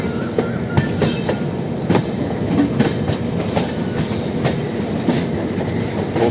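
A Rajdhani Special passenger train rolls over a diamond crossing, a steady loud rumble with sharp irregular wheel clacks over the rail joints, heard from close up with no speech.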